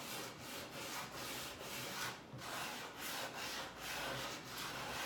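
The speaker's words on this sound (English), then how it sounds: "Just drag that sander or a little piece of sandpaper, even if you have, just drag it right around the circle." Sandpaper rubs along the edge of a natural wood door hanger in quick, even back-and-forth strokes, close and continuous, with short gaps between passes and no talking.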